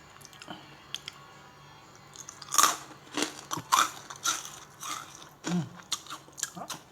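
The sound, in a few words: eating crispy baked vegetable chips, banana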